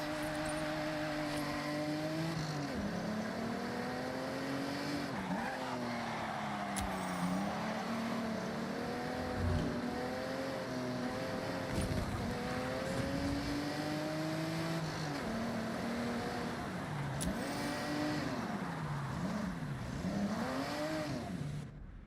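A Forza Horizon 6 car engine drones steadily throughout, its pitch rising and falling as gears shift and the car accelerates, loud and continuous with no talking.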